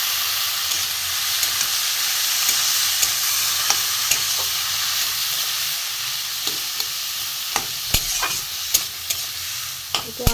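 Pieces of ash gourd frying alongside a hilsa fish head, a bright steady sizzle of hot oil running throughout, with sharp spatula clicks and scrapes against the pan toward the end.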